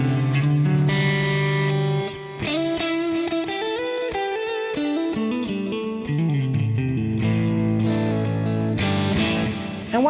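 Electric guitar played through the ToneX plug-in with delay and plate reverb, melodic single notes and chords over ten seconds, repeats and a spacious wash trailing behind each phrase, no talking.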